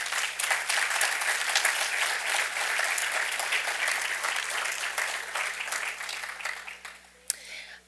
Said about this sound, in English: Would you please give them a round of applause?